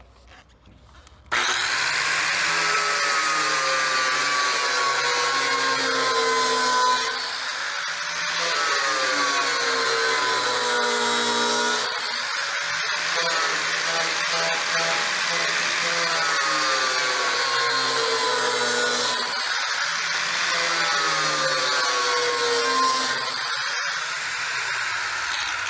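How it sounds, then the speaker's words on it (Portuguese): An electric sander working over a metal surface in a metalworking shop, a loud steady grinding whir running almost the whole time with slight dips in pitch as pressure shifts, close and without talk. "Agora eu vou fazer uma passagem com a lixadeira aqui para começar já a acertar essa superfície"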